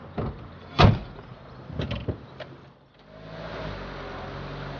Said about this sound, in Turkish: Özellikle kapıyı da kapat.